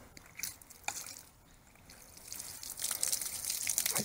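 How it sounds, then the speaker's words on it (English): Water from a ram pump trickles and splashes faintly, with scattered drips early on and a hissier rush of flow building toward the end. "We have water flowing."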